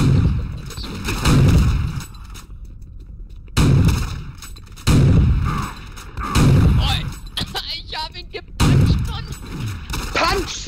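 Repeated bursts of gunfire from the Doom 3 mod CDoom, a first-person shooter, come in five loud clusters separated by brief gaps, each a dense, booming volley, with faint voices mixed in between.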